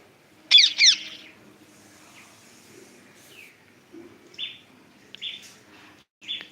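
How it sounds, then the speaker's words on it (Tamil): Sparrows chirp sporadically outdoors: a couple of quick bright calls, then scattered single chirps spaced apart against quiet background. "குருவி சத்தம்"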